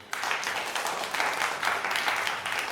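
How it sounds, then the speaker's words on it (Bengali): Audience of MBA admission candidates clapping for themselves, a brief burst of dense, even applause that holds steady at moderate loudness. "আপনারা সবাই নিজেদের জন্য একটা হাততালি দেন।"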